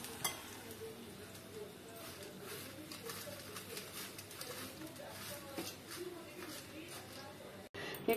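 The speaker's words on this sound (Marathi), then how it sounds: "लसूण पण मी फ्राय करून घेणार आहे" Garlic and dried coconut fry in a pan for a Kolhapur-style garlic-onion chutney masala, giving a steady, moderate sizzle that continues throughout with a brief break near the end.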